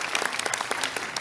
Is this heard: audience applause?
yes